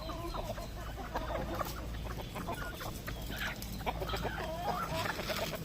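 Native and Rhode Island chickens eating cracked corn: a dense flock clucks and murmurs continuously at close range, with scattered pecking and scratching and a rooster-like call now and then.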